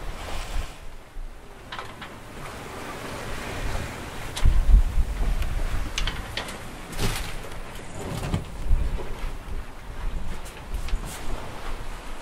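Wind rising on a sailboat at sea in the Mozambique Channel, a continuous rushing buffet of gusts against the microphone mixed with wave wash around the hull, swelling and easing over several seconds with no talking.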